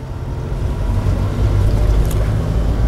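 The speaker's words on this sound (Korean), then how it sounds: "엔진 소리가 시끄러워지면, 4단." A manual-transmission car's engine drones loudly and rises steadily while it accelerates in gear during a road driving test, under a continuous roar of road and wind noise, with no voices.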